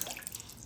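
Water drips and trickles briefly off a small aquarium plant pot just dipped in water, a soft splashy patter, close and faint.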